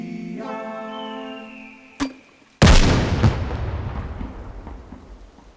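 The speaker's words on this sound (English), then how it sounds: "the rain came back in a much more transparent way than the first time" A sharp thunder crash bursts in after a sustained tone and a brief ding, then rolls off slowly into a long, dense wash of rain-like hiss.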